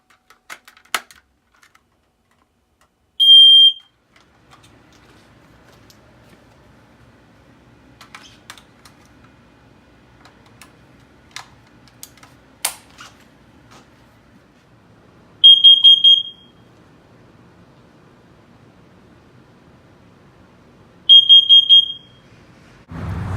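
Smoke alarm giving three separate loud, shrill electronic beep bursts several seconds apart, with faint clicks and handling noise in the quiet gaps between them.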